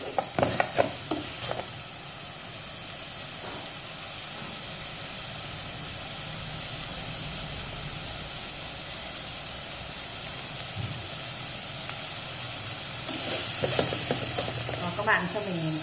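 Bones stir-fried with seasoning in a hot pan for a sour soup: a steady close sizzle and hiss throughout, with clattering utensil scrapes at the start and again near the end.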